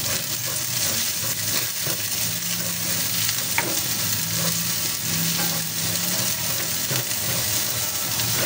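Onion sizzles in a pan alongside garlic while being stirred for chicken with hoisin sauce, a continuous close frying hiss broken by scraping and knocking of the utensil.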